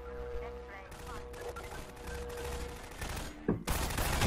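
Enemy gunfire in the video game Half-Life 2, rapid shots crackling over game music and noise and growing louder toward the end, with a person talking.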